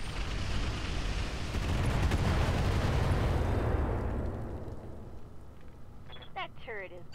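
A turret in the game Roguepoint is destroyed by gunfire: a loud, sustained rumbling blast of heavy fire fills the first four seconds and then fades, with voices talking near the end.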